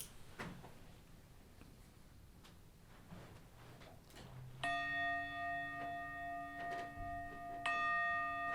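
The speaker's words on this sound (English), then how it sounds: "So we'll hear the bells in just a moment." A meditation bell is struck twice after a few quiet seconds of small knocks and shuffling, each strike ringing out as a clear, sustained metallic tone that lingers and slowly fades.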